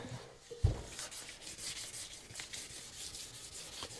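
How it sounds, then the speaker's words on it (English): Steady wet rubbing and scraping of abrasive against the metal fuel tank of a 1975 Kawasaki KE125 motorcycle, continuous with light strokes and a single soft knock near the start. "You can see it's really just wet sanding it to clean it."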